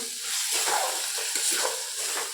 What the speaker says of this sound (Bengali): তিন মিনিট মতো মশলাটা কষিয়ে নেব, যতক্ষণ মশলা থেকে তেল না বেরোবে